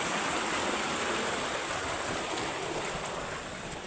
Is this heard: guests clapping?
no